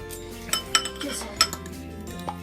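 Utensils clink and scrape against a bowl as ingredients are mixed for kotleti, several bright metallic knocks spaced irregularly over a soft stirring sound, close and clear.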